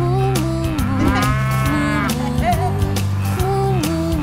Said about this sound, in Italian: La mucca là dietro fa mu mu mu